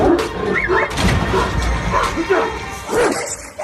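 A Kangal shepherd dog gives a few short barks and yips, close and fairly loud, mixed in with talking.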